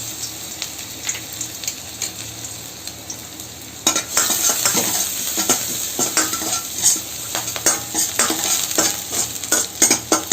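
Chopped ginger, garlic and green chili fry in oil, a quiet sizzle that turns into loud, busy frying with rhythmic spatula scraping and clatter against the pan for the second half.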